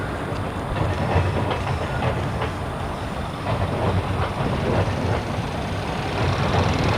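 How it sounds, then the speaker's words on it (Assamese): Near a railway station in Tamil Nadu, a train rolls past close by with a loud, continuous rumble and rhythmic clickety-clack of wheels over rail joints throughout. "এয়া ট্ৰেইন আহি আছে আমি এতিয়া ষ্টেচনৰ কাষতে আছিলোঁ"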